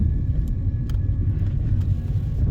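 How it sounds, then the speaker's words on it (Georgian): Car on the move heard from inside the cabin, a steady low engine and road rumble with faint ticks and rattles over it, no talk. "მაიკოს მანქანიდან"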